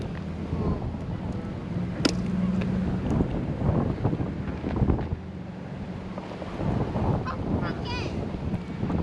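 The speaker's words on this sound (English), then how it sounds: "Do you want to see the geese?" Geese honk at a distance, calling in short bursts over strong wind buffeting the microphone, with faint voices now and then.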